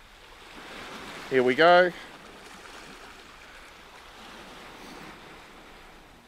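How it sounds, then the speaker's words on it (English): Ocean waves wash steadily onto the Anglesey shore with a continuous close surf roar. Someone briefly speaks over it early on, then only the wash continues. "So now it's just wait for a wave, and here comes one."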